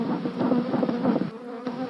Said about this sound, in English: she pumps a smoker to calm the agitated bees